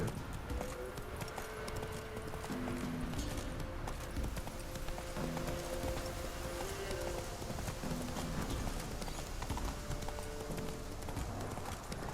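Geralt's horse Roach clip-clops at a steady trot in The Witcher 3, hoofbeats loud and continuous beneath a dense bed of game music and ambience.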